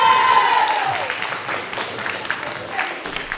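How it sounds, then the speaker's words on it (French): At a school slam poetry reading, an audience applauds a performer with full, steady clapping, opening with a brief whistle-like tone before the clapping settles into a continuous wash. "Faites maintenant un applaudissement pour Arsène"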